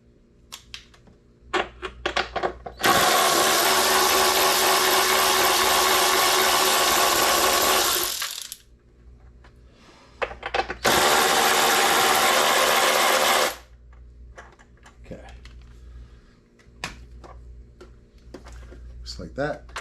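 Fasteners on a motorcycle's lower vented fairing being loosened with a power driver, in two loud, sustained whirring bursts of about five and three seconds, close up, with brief speech in the quiet stretches between.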